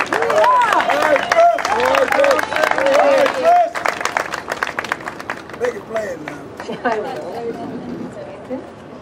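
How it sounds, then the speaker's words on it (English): An audience at a TV show applauds and cheers for a guest, a loud crowd of clapping and whoops beneath someone talking, tapering into lighter scattered claps and chatter. "would you please give a big round of applause for my friend and co-laborer out here in the struggle, Ms. Christine Nelson"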